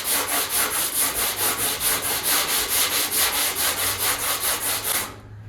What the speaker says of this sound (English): Break out some 40 grit, see what we can find in these high and low spots.